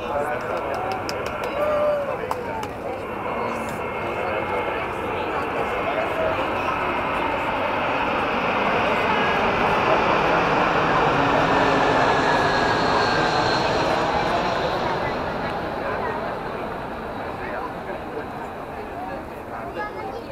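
An Airbus A320 airliner passes overhead near the Danube in Budapest, its engine roar swelling to a broad peak midway and then slowly receding, loud and continuous, with voices at times in the background.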